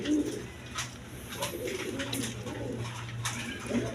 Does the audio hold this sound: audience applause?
no